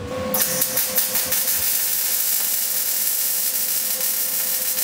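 Someone welds a crack on a Nissan 350Z, producing a continuous crackling, hissing buzz with a steady tone. A few irregular pops come at the start.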